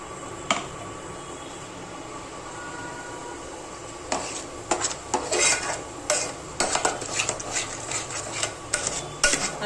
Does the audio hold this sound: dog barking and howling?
no